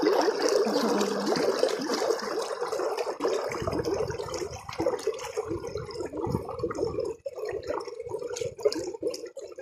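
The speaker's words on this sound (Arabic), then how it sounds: "صوت الميه ده مريح للاعصاب" Irrigation water flowing across farmland, a continuous close trickle and gurgle with small splashes and drips, steady throughout and without talk.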